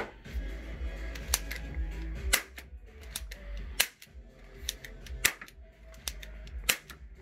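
Python XP-5 gel blaster revolver firing a series of sharp, snappy cracks spaced about a second apart over a low mechanical hum, with small clicks between shots.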